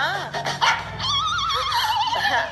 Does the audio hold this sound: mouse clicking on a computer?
no